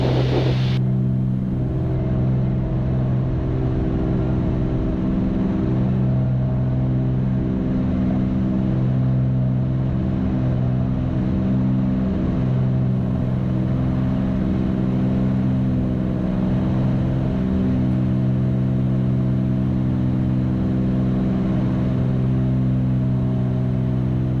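Twin-engine Cessna climbing out after takeoff, both engines giving a loud steady droning hum with strong tonal harmonics, unbroken for the whole stretch with faint radio talk beneath.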